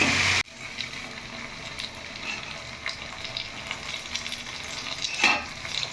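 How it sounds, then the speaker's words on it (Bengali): Potato pieces for the Bengali dish aloo posto fry in a hot pan with a steady, moderate sizzle, broken by occasional louder spits and stirring scrapes. "এখানে আলু পোস্তর জন্য আলুগুলোকে এখন ভাজা হচ্ছে"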